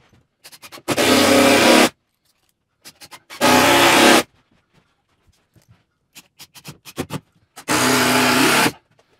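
A power drill driving screws into ceiling boards in a tiny house build: three sustained whirring bursts of about a second each, loud and close, separated by clicks and handling noises.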